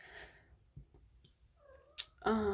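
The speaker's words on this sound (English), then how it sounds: "Sorry for my cat in the background." A cat meows nearby in a quiet room, a few soft drawn-out calls ending in a louder, wavering yowl, with faint thumps between.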